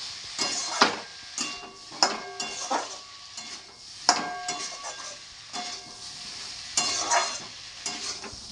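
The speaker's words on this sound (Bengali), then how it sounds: "দেখো এখন নিরামিষ তরকারি হচ্ছে, কাঁঠাল তরকারি" Vegetarian jackfruit curry stirred and fried in a pan: a spoon scrapes and knocks against the pan in repeated strokes over a steady close sizzle, with no talk.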